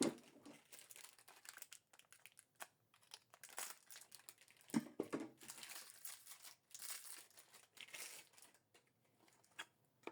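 Plastic wrapping pulled and peeled off an HP ink cartridge for an HP Envy 6520e printer, faint close crinkling and crackling in irregular bursts with short quiet gaps.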